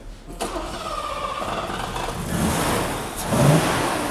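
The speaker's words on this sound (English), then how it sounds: "when he got that engine started, I mean, that was like money in the bank straight away" A car engine, newly fitted with a replacement fuel pump, cranks and catches, then runs with a steady, rough mechanical roar that swells slightly near the end, loud and close in a scrapyard setting.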